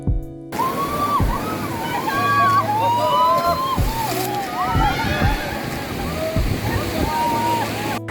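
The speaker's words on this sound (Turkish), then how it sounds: "şu anda da Manavgat Şelalesi'ne geldik" Manavgat Waterfall roars as a continuous, loud rush of falling water, with parrot-like chirps and people talking over the steady flow.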